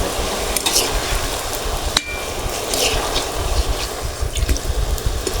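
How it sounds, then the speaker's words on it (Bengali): Jackfruit jalebi fries in hot oil with a steady, fairly loud sizzle, broken by occasional clinks and knocks from a utensil. "দিদি ভাই দেখেন আমি কত বড় জিলাপি ভাজছি"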